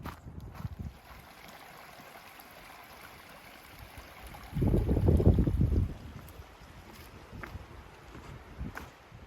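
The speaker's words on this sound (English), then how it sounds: "Listen to that wind." Wind gusting along the Arizona Trail, a low buffeting rumble that rises into one strong, close gust midway before easing back to a soft steady whoosh.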